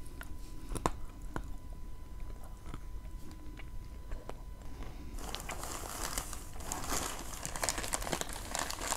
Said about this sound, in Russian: Она мягкая, но в то же время хрустит.